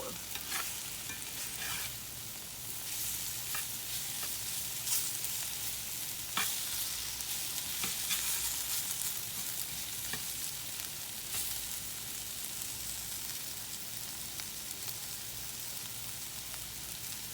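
Summer squash fries and sizzles steadily in a pan, with intermittent scrapes and clicks of stirring over a constant hiss, close and moderately loud throughout.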